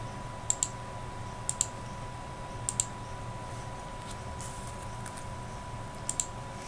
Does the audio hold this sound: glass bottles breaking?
no